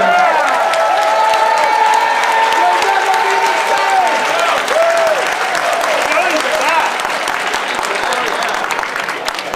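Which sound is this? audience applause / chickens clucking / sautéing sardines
audience applause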